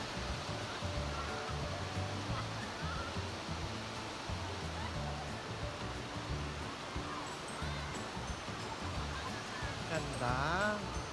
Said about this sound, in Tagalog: Ayan po, nandito na po ako sa may falls.